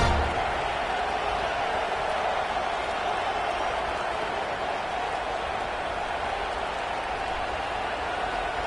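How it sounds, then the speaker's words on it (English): Home crowd at a college football stadium roars loud and steady as the game gets underway, a dense continuous wall of cheering with no breaks. "this home crowd is fired up and ready to make a difference today"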